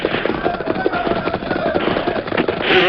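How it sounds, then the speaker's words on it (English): Rapid pops and cracks of gunfire crowd together in a busy, dense stretch around a stalled railroad train during a holdup, with shots overlapping one another at a fairly loud level. "the sound of gunfire increased"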